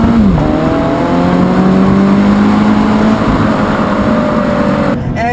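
A 2017 Subaru BRZ Limited automatic, its 200-horsepower engine revving hard under acceleration, climbs steadily in pitch, loud and close, then briefly drops off at the end.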